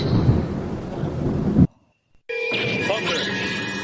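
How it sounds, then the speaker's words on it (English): Loud thunder rumbles with heavy rain, cuts to brief silence, then returns as a rumbling storm with rain and some higher tonal sounds. "Thunder!"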